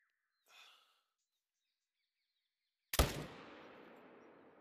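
A single sharp rifle shot from a .300 fired at a Bengal tiger in the hunting game theHunter, loud and close with a long rumbling tail, preceded by a faint breathy sound.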